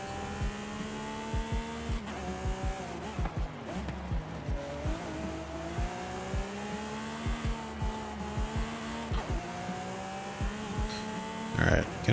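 A McLaren Sabre and other racing cars roar through a Forza Horizon 5 race, a steady engine drone with gear shifts, engine rises and falls, and occasional tyre squeal, all under continuous talk.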